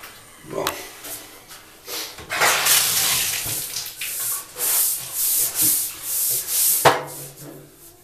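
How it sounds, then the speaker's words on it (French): Someone scrubs a bathtub clean, producing bursts of rough, hissing rubbing strokes in an irregular rhythm, close up, with a few brief pauses between passes. "Je sais que ça prend plusieurs étapes pour nettoyer le bain"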